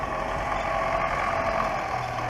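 An MTZ-80 tractor pulls away across a sown field, its diesel engine a steady continuous drone at moderate distance with no speech.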